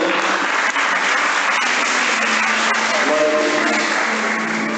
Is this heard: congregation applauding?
yes